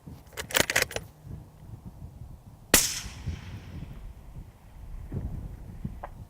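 Single sharp crack of a Ruger Precision Rifle shot at about 2.7 seconds, loud and close with a decaying tail, preceded by faint jangling clicks and followed by quiet outdoor rustling.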